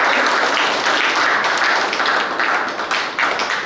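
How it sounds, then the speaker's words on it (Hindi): Spectators at a state-level kickboxing championship applaud a competitor, brisk, dense clapping with slightly uneven bursts, loud and close, with no speech. "जोरदार तालियों से स्वागत करें।"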